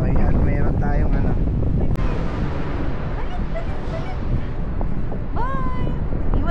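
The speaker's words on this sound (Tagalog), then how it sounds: "sa kasalukuyan na malakas ang hangin dito" Strong wind in Taiwan buffets the microphone in loud, rough gusts, with brief voices and faint animal-like calls in the background.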